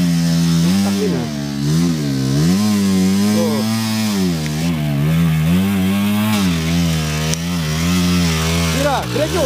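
Trail motorcycle engine revving hard while climbing a steep uphill trail, a loud continuous droning roar with rising and falling pitch, close up, with shouted voices over it.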